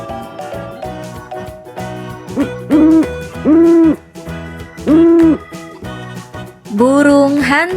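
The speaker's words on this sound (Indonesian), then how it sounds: "Burung hantu." An owl hoots in a few loud, close, drawn-out calls spaced about a second apart, set against a soft background with light chimes and a voice in between.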